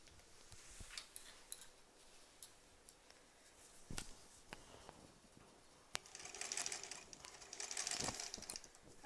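A sewing machine stitches a long quilt block seam, its fast, faint mechanical ticking steady throughout and growing a little busier toward the end, with no talking.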